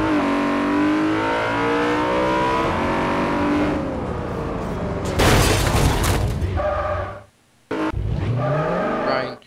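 A stolen BMW in the game Garry's Mod revs and accelerates, its engine tone climbing through gears, then a burst of noise, a brief cutout and more revving, loud and close.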